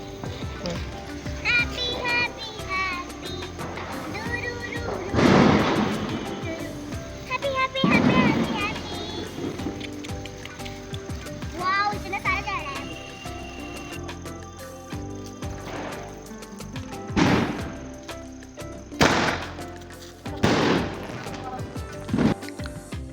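Diwali firecrackers burst intermittently in the neighborhood, a handful of sharp bangs spread apart at moderate distance, mixed with children's voices and chatter throughout.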